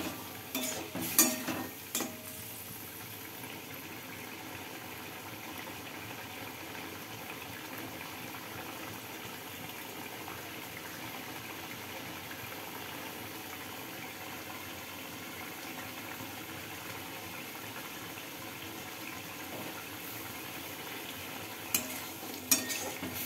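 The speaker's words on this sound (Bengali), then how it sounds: "এবার হচ্ছে মশলাটা ভালো মতো কষুক, একটু জল দিয়ে দিয়েছি" Spice paste (masala) for a rui fish curry fries in a pan with a splash of water, giving a steady close sizzle and bubbling with scraping stirs throughout, a few louder clatters near the start and end, and no voices.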